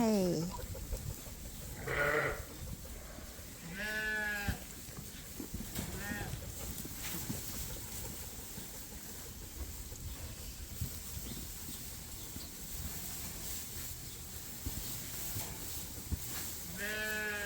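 Sheep on a farm bleat in several separate, fairly close calls spread across a quiet background, with a person talking between them.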